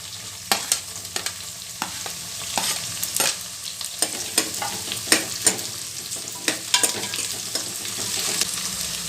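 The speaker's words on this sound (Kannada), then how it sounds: "ಈಗ ಈರುಳ್ಳಿ ಹಾಕ್ತಾ ಇದ್ದೀನಿ" Onions sizzle in a pan for okra rice, with a spoon stirring and scraping at an irregular, frequent rhythm over a steady frying hiss. The sound is close and no one talks.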